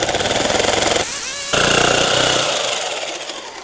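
Harsh, rough power-tool sawing fills the clip while cutting parts for a Ford F150 truck camper cargo box, briefly replaced by a high whining cut before the grinding saw noise resumes and slowly fades.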